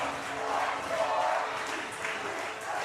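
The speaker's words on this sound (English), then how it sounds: "Listen to that crowd." A football crowd of Tuloy FC supporters roars steadily at a stadium after a goal, a broad sustained wash of cheering and applause that swells slightly mid-way and holds at a constant loud level.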